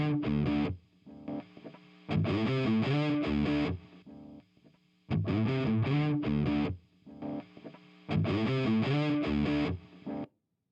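Electric guitar phrases repeat in alternating bursts as a Tube Screamer overdrive is switched on and off, loud distorted passages trading with quieter, cleaner ones, with faint amp hiss in the gaps.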